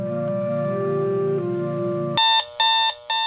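Conventional alarm clock sounding, loud and close: a gentle tonal chime gives way to sharp, piercing beeps in three rapid bursts, no speech.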